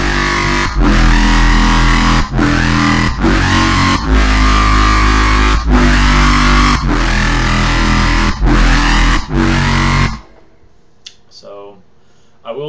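Gritty, aggressive power synth patch built in Native Instruments Massive with a Sugar Bytes WoW filter, playing loud rhythmic chopped chords for about ten seconds before cutting to a quieter, sparse tail.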